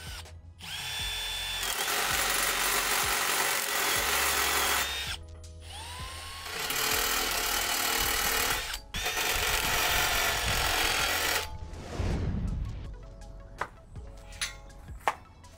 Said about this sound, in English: So I switched over to a step-up drill bit